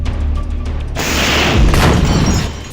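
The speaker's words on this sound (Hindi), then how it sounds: "इसके बाद हमास का एक दूसरा लड़ाका सामने खड़े एक सैन्य वाहन पर रॉकेट से हमला कर देता है।" A rocket strikes a military vehicle, likely an IDF Merkava tank, in Rafah: a sudden loud boom bursts in and rolls into a long, dense rumble of blast noise that lingers for seconds.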